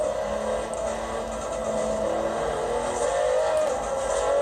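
A Lamborghini Huracan's engine roars continuously in Forza Horizon 4 during a top-speed run, a loud sustained drone whose pitch climbs and shifts as the car accelerates, with no talking.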